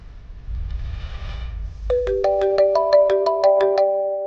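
A telephone ringtone chimes in a repeated stepped pattern of bright tones, loud and close, after a few seconds of low rumbling room noise in a Hindi-dubbed horror film.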